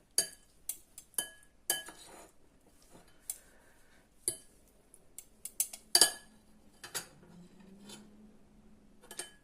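A yellow dressing of mustard, egg yolks and olive oil being mixed in a glass or ceramic dish, heard as sharp utensil clinks and taps at an irregular pace with soft scraping between, close and fairly quiet, with no talking.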